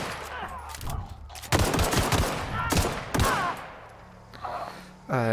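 Sharp bursts of gunfire from the player's weapon in The Outer Worlds, several rapid shots clustered together with pauses between groups, loud and close, with a whooshing sweep at the very end.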